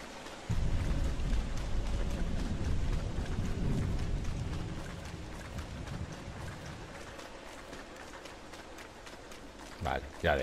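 Rain falls in the video game Don't Starve (Reign of Giants, PS4) as a steady, dense hiss, loud at first and then easing to a softer patter, with low rumbling in the opening seconds.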